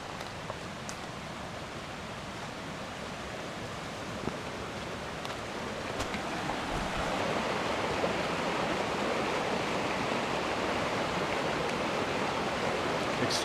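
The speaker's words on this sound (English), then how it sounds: "Now I have to make a river crossing." Rushing water of a river crossing on the Jordan River Pathway, a steady broadband wash that grows louder and nearer halfway through, with occasional faint knocks and no talk.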